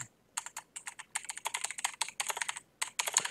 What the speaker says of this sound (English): You need to calm your keyboard now. It's getting a little bit loud.